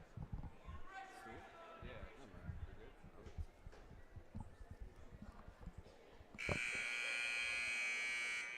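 A loud, sustained electronic buzzer marks the end of a period at a wrestling tournament, cutting in near the end over a noisy gym with crowd sounds and commentary talk.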